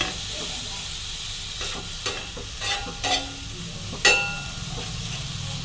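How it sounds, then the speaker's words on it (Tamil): Minced meat filling for momos stirred and broken up in a hot pan, a low sizzle under scattered scraping and clacking strokes of the spoon, close and moderately loud, with no talk. "இந்த மாதிரி இதை நல்லா மிக்ஸ் பண்ணிவிடுவோம்"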